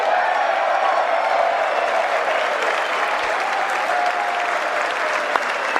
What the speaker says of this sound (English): everyone's being like clapping for him around the area